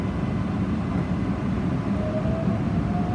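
An airport people mover tram at Orlando International Airport rolls away from a station, a steady low rumble and rattle heard from inside the car, with a faint rising whine toward the end.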